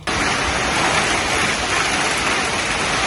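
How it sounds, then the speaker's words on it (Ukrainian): Steady, dense rain pours down outdoors in Bukovina during a storm, a loud continuous hiss with no other sounds and no voices. "Дощило в населених пунктах області і сьогодні впродовж дня."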